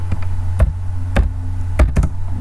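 Keys struck on a computer keyboard while entering text with Adobe Illustrator's Type tool, a few sharp separate taps over a steady low hum, with no talking.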